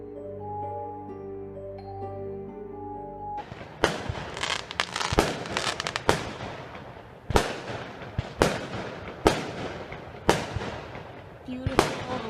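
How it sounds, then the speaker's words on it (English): Illegal Halloween fireworks burst outside one after another, each a sharp crackling bang at irregular intervals, following a stretch of music, with voices heard faintly between the blasts. "Beautiful, illegal Halloween fireworks."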